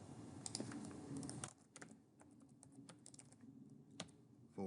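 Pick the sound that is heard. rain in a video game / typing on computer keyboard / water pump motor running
typing on computer keyboard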